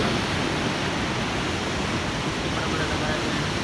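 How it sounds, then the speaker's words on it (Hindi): Water flows in a canal stream below a high vantage point, a continuous, dense rushing wash that stays steady and fairly loud throughout. "इसमें ये नीचे पानी नज़र आ रहा है, पानी चलता है"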